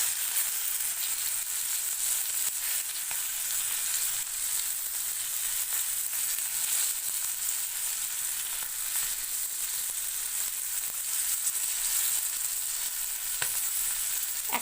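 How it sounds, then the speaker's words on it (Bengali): Stuffed pomfret fish frying on a flat tawa, a constant, even sizzle and crackle of hot oil close by, with a few faint ticks and no voices. "ওই দিকটাতে আমাকে একটুখানি এটা ভালো করে ভেজে নিতে হবে"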